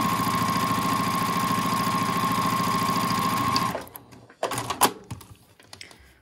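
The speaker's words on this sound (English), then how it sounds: "just adding little back stitches on the seams that will have a little bit of stress while turning and poking through" Sewing machine back-stitching bow tie seams, a loud close steady whirring with a fine rhythmic chatter for about four seconds, then stopping into scattered clicks and fabric handling.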